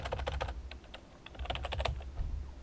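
Keys tapped on a computer keyboard as a category name is typed, a quick run of close, light clicks in two short bursts with a brief gap.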